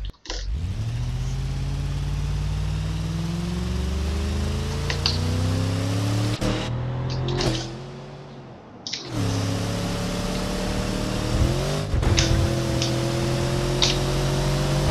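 Police car from the Ibishu Diadem lineup in BeamNG Drive, engine humming and revving through gear shifts with rising and falling pitch, loud and continuous with a couple of brief dips, no talking.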